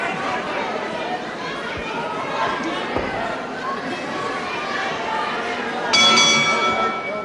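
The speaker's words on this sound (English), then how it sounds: "So there it is, the bell to end round 1" A boxing-style bell rings to close round one of a televised professional wrestling bout, a bright sustained clang arriving near the end over constant crowd chatter and an arena murmur.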